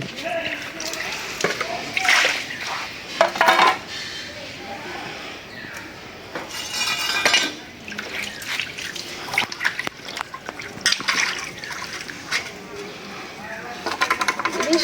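Hilsa fish pieces are washed in water with repeated drips, splashes and sloshing up close, while a person speaks intermittently over the watery sounds.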